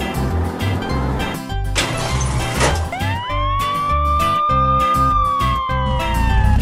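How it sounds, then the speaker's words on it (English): A black toy police car siren sounds after a short burst of noise, breaking into loud electronic wailing tones that rise and fall in repeated sweeps close by. "Black police car."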